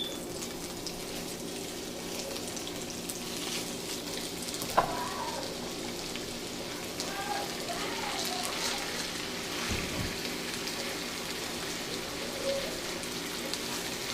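Beef chunks for pepper steak brown in a pan with onions, a soft steady sizzle with a sharp clunk and occasional stirring scrapes.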